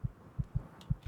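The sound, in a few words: heartbeat sound in video game Kimochii Classroom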